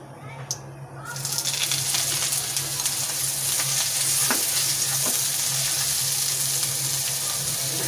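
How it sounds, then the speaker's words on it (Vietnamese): Mushrooms stir-fried in hot oil in a vegetarian kitchen, a steady broad sizzle starting after a brief quiet moment and holding close and even, with a few faint clinks of stirring on top. "đợi dầu sôi thì chúng ta sẽ bỏ nấm vào xào"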